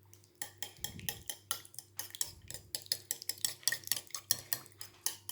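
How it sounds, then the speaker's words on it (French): Melted butter and milk for donut dough are stirred in a bowl with a rapid, regular series of soft clinks and scrapes, close and quiet, with no talking. "je vais mélanger le tout jusqu'à ce que le beurre s'incorpore dans le lait"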